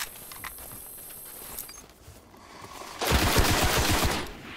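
Rapid automatic gunfire from a first-person shooter match in Destiny, a loud dense burst of repeated shots arriving after a quieter stretch and lasting over a second near the end.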